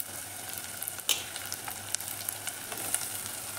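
Onion, garlic and green chilli fry quietly in a pan for chutney, a soft continuous sizzle broken by a few light clicks and stirring taps.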